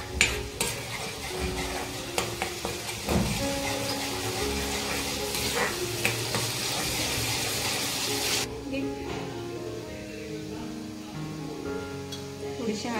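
Tomato puree sizzles as it fries with ground masala in a pan for a prawn dish, a steady close hiss with spoon scrapes and stirring knocks, the frying dying down toward the end.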